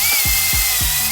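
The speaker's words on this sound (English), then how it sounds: "So we have a perfectly good drill, but for the show he wants to use the big one" A large power drill used on a sailboat's boom gives a loud high-pitched whine, with three quick low thumps as the bit catches at regular intervals.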